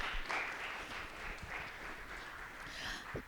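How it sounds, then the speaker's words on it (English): An audience at a 2025 NOMAS symposium applauds two guest speakers, a steady patter of many hands clapping throughout at moderate volume. "Give them a round of applause, please."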